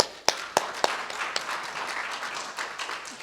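Applause from a forum audience at the opening of a university presidents' forum on training physician-scientists, a few sharp claps at first, then a scattered, moderately loud round of clapping.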